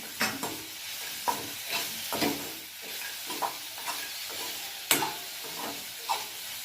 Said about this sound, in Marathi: आता आपण ड्रायफ्रुट्स तेला तुपामध्ये तळून घेतलेले यात घालून घेऊ छान परतून घेऊ